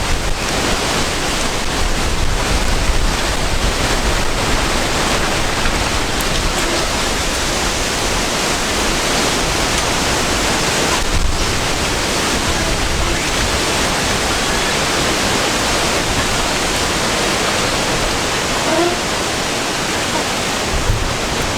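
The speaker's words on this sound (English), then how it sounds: "Pretty hectic winds." Strong gusting wind outdoors in the Australian bush roars as a loud, continuous broadband rush that swells and dips slightly, buffeting close to the microphone, with no voices.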